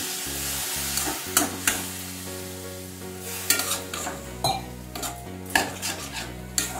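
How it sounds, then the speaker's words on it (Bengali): Vegetables sautéing with turmeric and Kashmiri chilli powder in a pan after a splash of water, soft sizzling broken by repeated scraping and clinking of a spatula against the pan over low background music. "এবার সবজিগুলো মশলার সাথে ভালো করে কষিয়ে নিচ্ছি"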